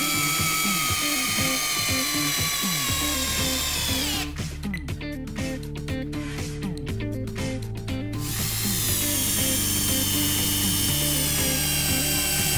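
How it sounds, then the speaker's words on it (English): A power screwdriver drives Dynaplus coarse-thread screws into wood, whining steadily with a pitch that drops as the load rises, then briefly ratchets and pulses before whirring again, close and loud with no talking. "We test a total screw in time for two different screws."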